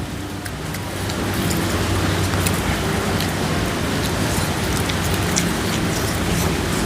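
Heavy rain pours down steadily, a dense, loud hiss of drops on surfaces that swells after the first second and continues unbroken, with no talk.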